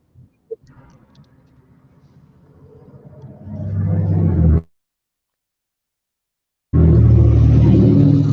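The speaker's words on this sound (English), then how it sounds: "he's hitting them road reflectors." A truck runs over road reflectors, a rising rumble that swells loud and close, cuts off abruptly, then returns as a loud steady drone.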